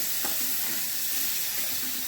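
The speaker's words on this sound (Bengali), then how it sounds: "ধনে গুঁড়ো দিলাম, লঙ্কার গুঁড়ো দিলাম। এবার মশলাটা একটু কষিয়ে দিচ্ছি।" Ground coriander, cumin and chili powder fry in a pan while being stirred for a fish and cauliflower curry, a dense, steady close sizzle with faint scraping strokes.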